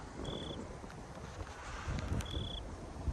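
Wind blows outdoors in Arizona, a steady low rumble of gusts buffeting the microphone throughout, with a couple of faint high whines in the background.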